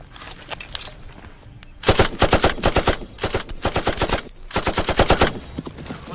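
Automatic gunfire from a film scene, with bursts of rapid machine-gun shots at close range and loud, dense rattling volleys split by short gaps.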